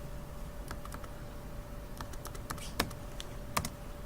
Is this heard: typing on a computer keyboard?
yes